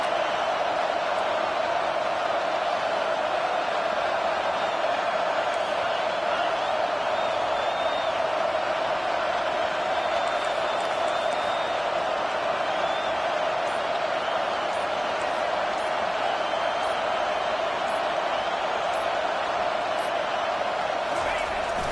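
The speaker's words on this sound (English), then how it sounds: "Here comes this home crowd as the defense tries to get off the field on third down." A home stadium crowd at a football game roars on third down, a dense, loud and unbroken wash of cheering that stays level for the whole stretch, with a commentator's voice faintly beneath.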